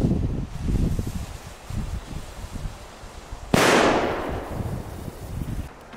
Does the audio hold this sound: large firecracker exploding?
yes